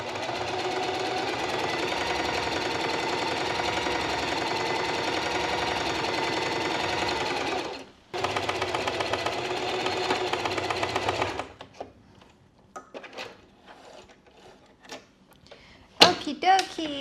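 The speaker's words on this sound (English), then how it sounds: "a straight stitch all the way around the 3 sides of the bandana" A sewing machine runs a continuous straight stitch around three sides of a bandana, whirring steadily and close, pausing briefly once, then stopping; scattered quiet handling noises and brief talk follow.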